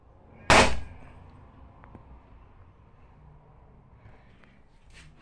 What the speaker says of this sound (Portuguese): Vou dar um disparo para vocês verem